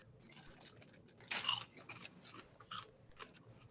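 Crunchy chewing of candy bar popcorn mixed with Butterfinger pieces, a close series of crisp bites and mastication with one loud crunch near the start and no talking.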